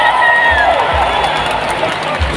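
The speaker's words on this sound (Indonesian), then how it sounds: "Tepukan untuk pejuang-pejuang ini semua." Large crowd cheering and clapping at an outdoor political rally in Malaysia, a steady loud roar with whoops and shouts throughout, a few low thumps underneath.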